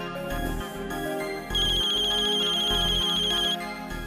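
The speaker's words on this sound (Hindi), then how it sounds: "मैं डॉली को फोन करता हूँ।" A phone ringtone plays a looping electronic melody with a bright repeating tone in the middle, loud and close, no voices.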